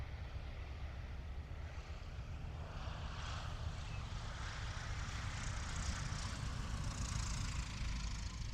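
Small propeller planes fly on approach in Kentucky, making a faint, steady, distant engine drone with a broad airy rumble that swells slightly without a break.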